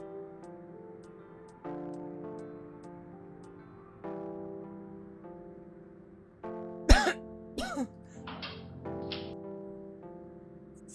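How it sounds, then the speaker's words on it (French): A woman coughs in a sharp burst of several coughs, then a few weaker follow-up coughs, fairly close, over steady sustained music with soft periodic clicks. "Parce que tu tousses."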